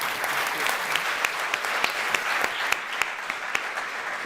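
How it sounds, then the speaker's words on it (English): Audience applause for conference panelists at a statistics conference, a steady wash of many hands clapping with a few sharper claps standing out, sustained and fairly close throughout. "let's just give our panelists a round of applause"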